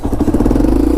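Yamaha TW200 motorcycle engine chugging at low revs while rolling in first gear, a close, steady pulsing thump with slight clatter.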